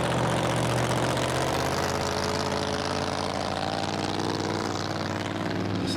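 Continuous loud rumble of traffic engines at a classic car rod run in Pigeon Forge, a dense wash of cars, scooters and motors passing close by without pause.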